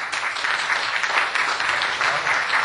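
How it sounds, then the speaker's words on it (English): Steady, dense applause fills a Senate Judiciary Committee hearing room after a witness is introduced, a continuous wash of many hands clapping at moderate distance. "no need for applause, ladies and gentlemen"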